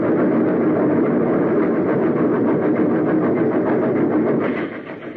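A train rushes into a smoke-filled tunnel as a radio drama sound effect, a loud dense rumble and rattle that holds steady, then drops off at the end, with no voices.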